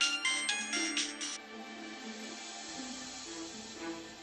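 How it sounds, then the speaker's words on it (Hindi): A phone ringtone plays a short melodic pattern of bright repeated tones for about a second and a half, then fades into quiet background hum. "इस दौरान मिसबा के भाई का फोन आ गया"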